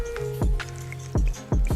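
Kangen water falls in three distinct drops onto a tea bag, each landing as a short, close, wet plop with a squishy splash, spaced unevenly across a quiet background with a faint steady hum.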